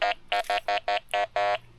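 Seven quick buzzing beeps from a Quest X10 metal detector on iron, close and fairly loud, with a couple of the pulses held slightly longer.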